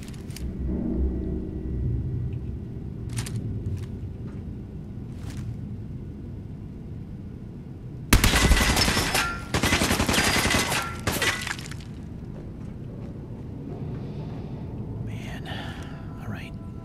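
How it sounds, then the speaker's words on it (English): Gunfire in a Fallout 4 firefight, with a loud broadband burst of shots over about three seconds in the middle, set against low rumble and quiet voices. "Open fire!"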